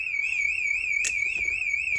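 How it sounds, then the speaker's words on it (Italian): A CNA camper van alarm, set off when a window is lifted, blares a loud, steady warbling electronic tone that runs continuously, with faint clicks and knocks underneath. "Perfetto, l'allarme suona, così è il top."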